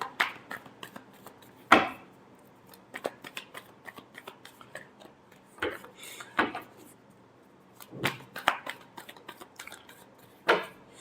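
Tarot cards being shuffled by hand in irregular bursts of crisp riffles and taps, close and fairly quiet, with no talk.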